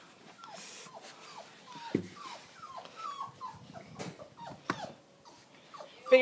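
Puppy whimpering out in the snow, a run of short high-pitched whines and yips repeating in uneven bursts, close and fairly soft, with no talking over it.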